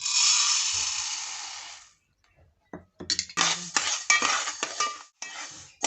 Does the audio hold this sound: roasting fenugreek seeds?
yes